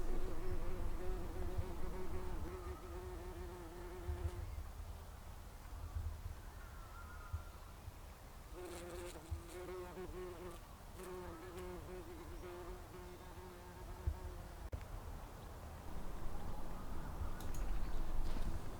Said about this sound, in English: we've still got bees coming on the nasturtiums